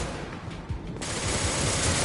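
Gunfire in the video game Mass Effect 2, a dense, steady roar of rapid shots that grows louder and fuller after the first second and keeps going without a break.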